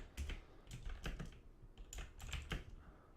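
Fingers typing code on a computer keyboard during a Java programming lesson: close, quiet key clicks in uneven bursts with short pauses between, no voice.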